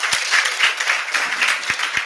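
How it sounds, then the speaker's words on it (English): A conference audience breaks into dense, sustained applause, many hands clapping together at a steady loud level with a few sharper individual claps standing out. "Please, another round of applause for Charmaine."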